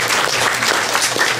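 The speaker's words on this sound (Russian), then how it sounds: "вот первые аплодисменты" Conference audience applauding the organizers, loud, close, dense clapping from many hands, sustained and even for the whole short stretch.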